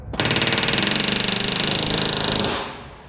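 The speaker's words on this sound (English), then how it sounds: "Okay, rivet." A rivet gun works on a CAC Boomerang fighter plane under restoration, firing one loud, rapid hammering burst for about two and a half seconds up close before it stops.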